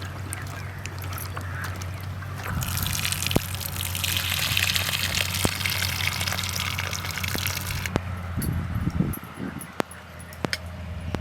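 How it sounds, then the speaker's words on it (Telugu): Brinjals are washed by hand in a bowl of water, with continuous sloshing and splashing close by, ending in a few scattered drips and knocks. "వెంకాయలు శుభ్రంగా కడుక్కోవాలి ఉతికి రెండు సార్లు"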